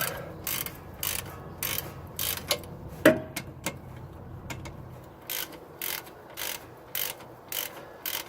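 Wrench ratcheting on an engine mount bolt of a Toyota MR2 (AW11) held with a welded nut, short bursts of clicking pawl strokes separated by pauses, close and fairly loud.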